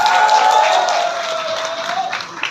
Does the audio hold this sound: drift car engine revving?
no